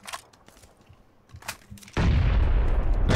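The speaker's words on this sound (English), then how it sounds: "They threw a grenade." A grenade blast in the battle royale game PUBG: after faint scattered noises, a sudden loud boom hits near the two-second mark and a heavy rumbling roar sustains to the end.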